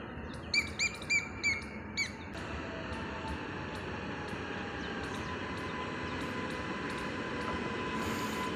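Near Shambhu station in Punjab, a few sharp bird chirps ring out first. Then a train approaches and passes, a broad, steady rumbling roar that builds gradually and stays loud to the end, with no voices.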